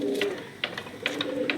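Low pigeon cooing murmurs close by in a loft, broken by a few quick, bright chirps or wing taps.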